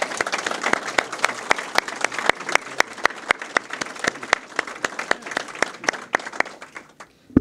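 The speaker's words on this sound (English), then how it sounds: "Can I get one more round of applause for all the speakers today" Steady applause from a crowd at a police department anniversary ceremony, many hands clapping densely and loudly throughout, with sharp individual claps standing out before it thins near the end.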